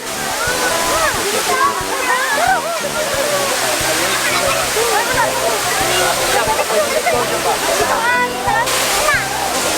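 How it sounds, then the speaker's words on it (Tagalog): A waterfall in Cebu, Philippines, a loud continuous rushing roar of falling water with splashing close by, people talking over it. "Ayan na tayo sa waterfall."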